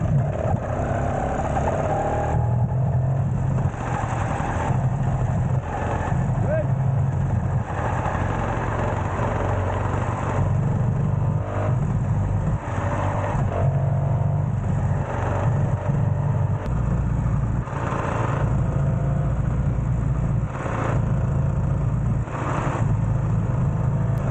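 A motorized bicycle engine fitted with an HP carburetor runs loud and close in a steady, continuous drone, with slight surges in the throttle throughout.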